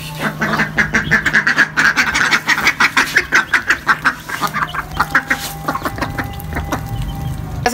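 Close, loud ducks quack in rapid repeated bursts while being hand-fed millet, the calls clustering in a busy rhythm before thinning out, with a faint voice and a steady low hum beneath.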